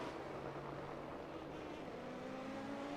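A GT3 race car engine and exhaust drone steadily in a racing game at Suzuka, heard at a distance with a continuous rising engine note and no talking.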